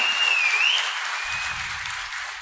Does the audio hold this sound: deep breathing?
no